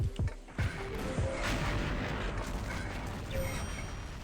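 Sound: gunfire nearby in XSHOT video game

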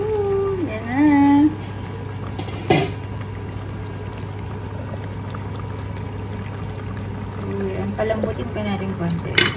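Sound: pouring leftover pineapple juice into pork humba

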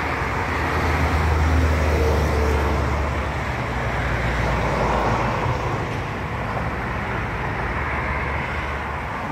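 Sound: road traffic noise from cars

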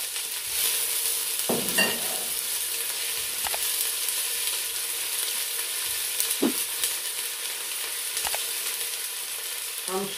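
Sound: garlic, bay leaf and onion sizzling in a hot pan

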